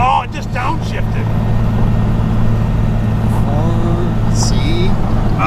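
A vehicle engine drones loudly and steadily at close range as it drops to a lower gear, with a few faint chirps over the continuous rumble.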